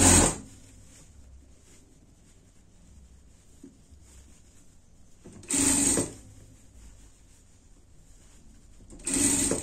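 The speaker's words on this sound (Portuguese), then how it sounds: "passar uma costura de segurança, tá? Juntando forro com tecido principal." Sewing machine running in two short bursts while stitching a safety seam that joins a dress lining to the main fabric, with a quiet pause between them.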